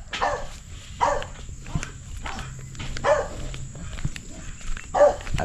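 Dogs bark in a steady series of about five sharp, evenly spaced woofs, fairly close, with faint background noise between them.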